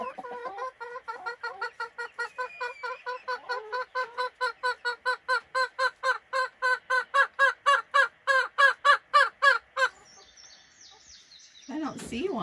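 A young hen clucks loudly and insistently before laying an egg in a pen, a rapid run of rhythmic squawking clucks that build louder and faster before stopping, followed by a short voice and a sharper call.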